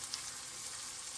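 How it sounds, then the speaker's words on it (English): Shallots and garlic sizzle steadily in a hot pan, a close, even hiss of frying with no break and no talking. "I'm just going to saute this"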